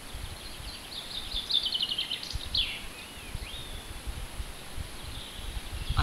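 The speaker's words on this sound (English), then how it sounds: "You can hear the bird song." Birdsong at a picnic area near Aberystwyth on a spring day, with faint, scattered chirps and short trills over a steady background of rustling and low outdoor noise.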